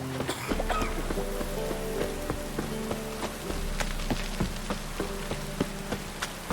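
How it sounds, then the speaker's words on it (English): Rain falls steadily in The Witcher 3, a soft constant patter with scattered louder drops, and a low hum runs beneath it, quiet and without speech. "And it's raining again."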